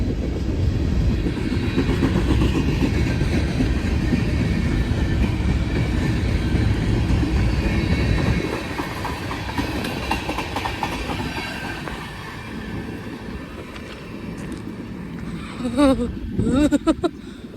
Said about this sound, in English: See if I can catch the DPU on the other train.